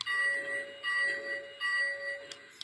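A small electronic bell on a model train rings in three repeated bursts, bright and tinny, fairly quiet with brief gaps between rings.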